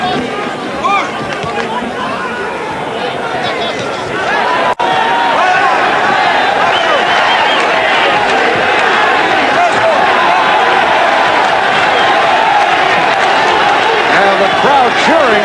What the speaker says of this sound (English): Crowd cheering for the hometown favorite, Luis Acaries, as this third round comes to a close